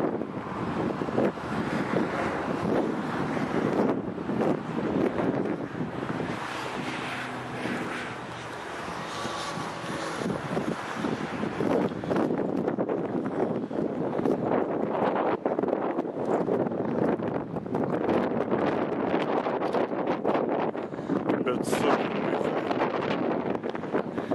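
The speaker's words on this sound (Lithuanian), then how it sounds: "Vėsų gerą, pagaliau pavėsės vėjai pučia." Steady wind buffets the microphone, a rough roaring rush that swells and gusts throughout, with no talking, on the road from Gibraltar toward Tarifa, Spain.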